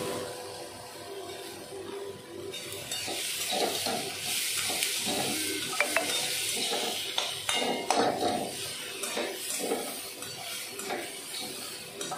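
Tomatoes dropped into a pan of oats dalia upma, frying with a steady broadband sizzle and scattered stirring scrapes, close by and moderately loud throughout.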